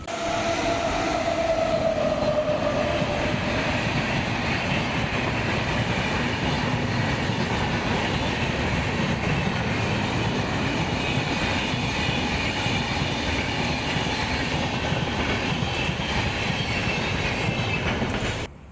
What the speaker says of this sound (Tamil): கோயம்புத்தூர் அசத் நிசாமுதீன் கொங்கு எக்ஸ்பிரஸ் வந்துட்டுருக்கு